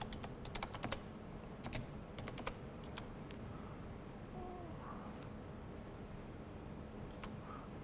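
Matlab/Octave code is typed on a computer keyboard, quiet clustered key clicks in irregular bursts early on, then sparse taps over a low background hiss.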